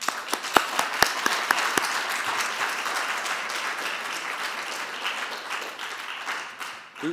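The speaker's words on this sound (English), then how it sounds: "let's give the candidates a round of applause" Audience at a general election debate applauding the candidates, a dense steady wash of clapping with a few sharp claps at the start, fading slightly toward the end.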